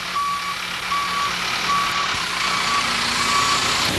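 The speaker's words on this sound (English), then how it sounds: "backup alarms for heavy equipment" Backup alarm on heavy equipment at a utility trench roadwork site beeps repeatedly in a steady on-off rhythm, moderately loud over a low truck engine drone.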